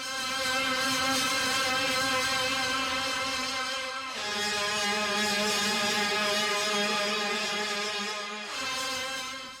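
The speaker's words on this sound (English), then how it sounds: "Now I can jump to the next polygrid instrument that sounds like this." A bright polygrid synthesizer patch plays sustained high-pitched tones with a dense buzzy texture, shifting to a new pitch twice, loud and continuous with no talk over it.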